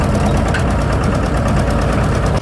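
A tractor engine runs steadily on a farm, a loud, continuous close-up rumble with a knocking diesel pulse and no pauses or voices throughout.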